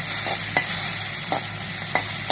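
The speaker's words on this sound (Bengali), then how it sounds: "পেঁয়াজটাতে আমি একটু গরম মশলা বাটা আদা রসুন বাটা দিয়ে দিচ্ছি দিয়ে মশলাটা একটু কষাই" Onion with garam masala paste and ginger-garlic paste sautéing in a pan, a steady broadband sizzle broken by a few sharp spatula scrapes at regular intervals, close and fairly loud with no voices.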